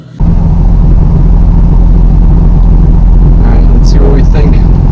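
Nissan 350Z on a test drive after a brake master cylinder brace install, a loud, steady engine and road rumble heard from inside the car with a brief rise near the end, with no voice over it.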